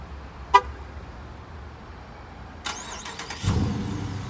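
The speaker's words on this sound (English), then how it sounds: "So you can actually start your vehicle from across the globe if you actually wanted to." A car is started remotely through the UConnect app: a short horn-like chirp, a pause, then the engine cranks and catches into a steady idle, close by.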